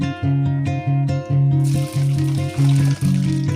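Ingredients for sambal fry in a pan at home, giving a steady sizzle that swells into a broader hiss midway. Strong rhythmic tonal sounds, probably background music, run underneath.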